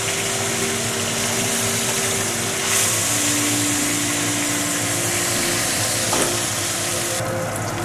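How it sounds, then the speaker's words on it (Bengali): Tengra fish sizzle and crackle steadily in hot oil for a traditional Bengali tel jhal curry, a dense, continuous frying hiss up close with a faint low hum beneath and no voices. "মাছগুলো আমার ভাজা হয়ে গেছে"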